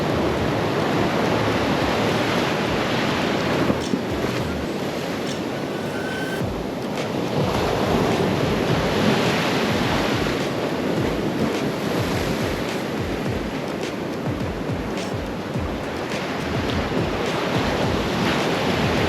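Big ocean waves crashing near the shore on a rough day, a continuous roaring surf with rolling swells and heavy wind buffeting the microphone, no voices.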